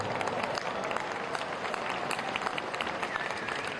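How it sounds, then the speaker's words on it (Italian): Crowd in Piazza dei Miracoli, Pisa, applauding as the Leaning Tower lights up for its 850th anniversary celebrations: dense, sustained clapping from many people heard from within the square, steady and fairly faint throughout. "dalla piazza scatta l'applauso"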